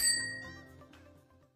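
A single bright notification-bell ding rings out clearly, then decays smoothly over about a second with a shimmering metallic tail, heard alone without any talking.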